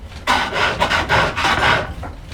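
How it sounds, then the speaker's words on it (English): A skew chisel point scoring a line into turned wood on a lathe, a few short raspy scraping strokes in quick succession, close and clear. "I like to just score a last line with the point of the skew"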